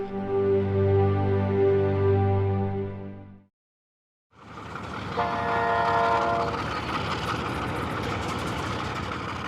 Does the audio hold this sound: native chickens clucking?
no